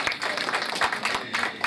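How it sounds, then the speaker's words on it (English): Audience at a law class gala night claps for the honoured set, a brief, moderately loud burst of applause throughout. "Shall we give them a round of applause?"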